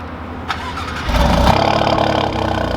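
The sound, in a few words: car V6 engine remote starting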